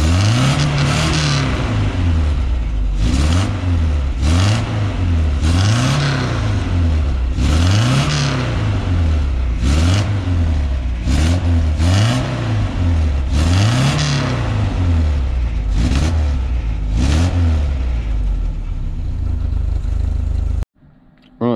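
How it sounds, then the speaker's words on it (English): A 1977 Rover P6 2.2TC engine, warmed up after carburettor and timing setup, is blipped about nine times in succession, each rev rising sharply and dropping back to idle, loud and close, then cutting off abruptly at the end. "We'll give it a few minutes and see if it revs okay once it's warmed up."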